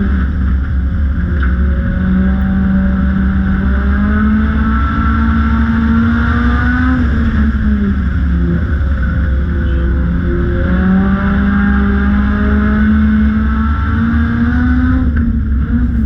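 Race cars roar steadily around a dirt track on a sunny Memorial weekend, their engine notes rising and falling as they circle in a continuous loud drone.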